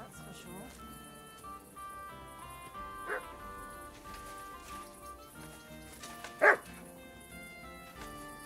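A dog barks a couple of times amid steady game music in Kingdom Come: Deliverance II, with short sharp yelps standing out near the middle and toward the end.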